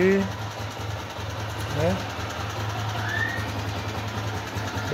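Honda CG 125 Fan 2008 motorcycle engine rumbling steadily on a night ride, a low continuous drone with someone talking briefly over it.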